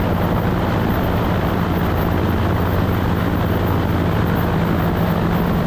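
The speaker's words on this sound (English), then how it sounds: "Throttle back till it rumbles, keep that nose down and steady." Seaplane engine rumbling steadily with the throttle pulled back, a loud, constant low drone with broad noise and no variation throughout, alone without talk.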